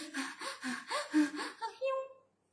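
A voice imitates rapid, labored breathing: a quick series of short, gasping breaths, close and fairly loud, fading out at the end.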